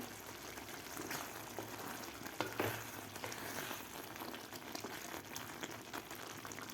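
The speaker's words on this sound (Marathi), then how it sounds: "मिरच्या घातल्यानंतर आपल्याला आणखीन दोन मिनटं हे भाजी शिजवून घ्यायची आहे" Green chillies cook with peas and spinach in a pan, giving a low, steady sizzle with a few soft stirring clinks near the middle, faint and continuous with no voices.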